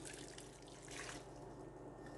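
Water pours steadily into a cooking pot for autumn olive jam, a continuous splashing rush that stays close and even for a couple of seconds with no talking over it.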